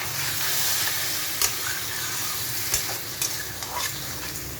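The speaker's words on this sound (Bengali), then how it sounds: "এবারে একটু জল দেব।" A pan of sizzling masala fries with a constant hissing crackle, joined by a few sharp spoon taps and scrapes, fairly quiet and close with no voices.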